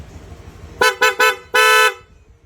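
Horn of a Honda Click V3 scooter sounding close and loud: three short honks in quick succession, then one longer sustained blast, with quiet before and after.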